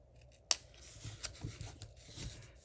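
Scissors cutting paper for a Stampin' Up! Nugget treat box: one sharp, close snip, followed by quieter rubbing and rasping of paper being handled.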